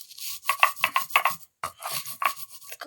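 Herbs are ground by hand with a gritty rhythmic rubbing, close and clear, in a run of about seven quick strokes, a brief pause, then another few strokes.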